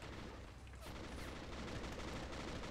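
Battle gunfire in the WWII strategy game Men of War: Valour, a dense continuous crackle of distant small-arms and machine-gun fire with a sharper burst near the start, steady and fairly quiet throughout.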